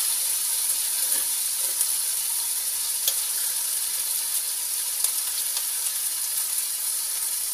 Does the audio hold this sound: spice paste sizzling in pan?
yes